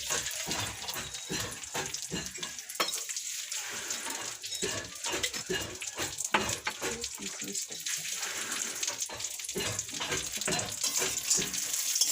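Cashews and raisins frying in ghee make a steady, gentle sizzle with irregular crackles and stirring clinks, and a voice speaks faintly underneath.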